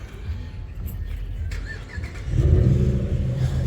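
A 1955 Chevy, a Tri-Five car at a cruise event, runs its engine with a low rumble that swells into a louder rev partway through, close by, with faint background voices.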